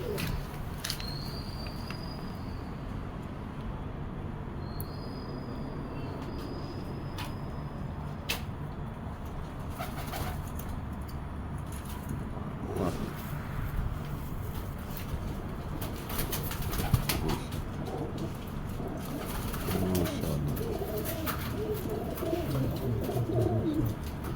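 Pigeons coo softly at moderate distance, with a few faint bird calls and brief wing flaps over a steady outdoor background.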